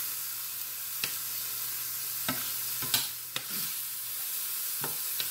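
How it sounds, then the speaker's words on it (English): Tomato paste scraped and stirred into Cuban picadillo sizzling in a pan, a steady soft fry with a handful of sharp spoon scrapes and knocks spaced a second or so apart. "I'm going to add the tomato paste"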